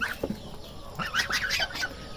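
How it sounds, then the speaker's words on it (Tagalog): A single goose calls in short, nasal honks and clucks at a rural home among the animals, close and fairly faint, in a few quick bursts with no talk. "Isang gansa to mga lodi oh."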